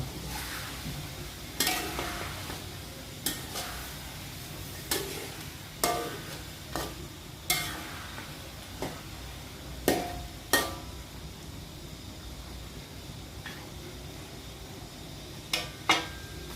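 Food frying in oil in a pan on a Saturday home kitchen stove, a steady sizzle under repeated sharp clinks and scrapes of a utensil stirring and flipping, spaced every second or two, close and moderately loud.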